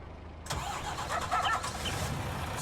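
Truck engine in Farming Simulator 19 starting up: a sharp crank and catch after a brief silence, then settling into a close, rumbling idle.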